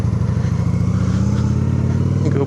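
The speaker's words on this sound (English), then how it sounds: "Let's remember how to ride a motorcycle real quick." A motorcycle engine running close by as the rider sets off, a loud steady low-pitched throb with a regular pulsing rhythm and a slight rise toward the end.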